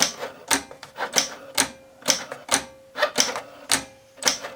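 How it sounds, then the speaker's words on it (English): A Cricut Mini cutting machine scores cardstock with a loud, rapid series of sharp clacking strokes at a steady, quick rhythm, each carriage pass rattling up and fading, with a faint tonal whine between hits and no talking. "It is a rather noisy machine"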